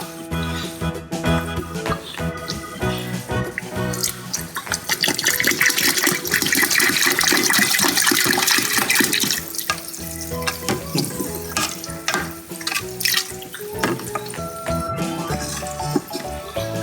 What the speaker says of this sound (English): We add our milk this way and towards the walls of your cook pot.